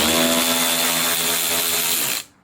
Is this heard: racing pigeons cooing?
no